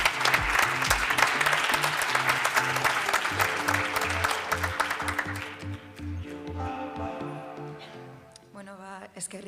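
Audience applause at a research and innovation awards ceremony as a prize is handed over, a broad clapping wash with music playing underneath, fading into music and a brief voice near the end.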